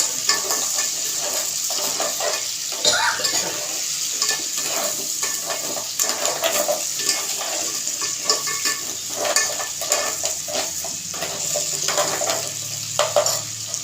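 Crab masala being sautéed in oil for a spicy village-style crab curry, a close continuous sizzle with regular scraping and stirring strokes of a spatula throughout.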